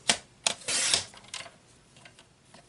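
Paper cards being cut with a few sharp snips and a longer slicing swipe, close and crisp, separated by quiet pauses, with no talking.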